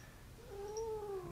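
A cat gives one drawn-out, rising and falling meow, fairly close but soft, over a low steady background hum.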